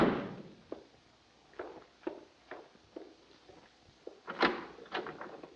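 A door thuds shut amid scattered soft knocks and bumps in a quiet room, with one louder impact near the end.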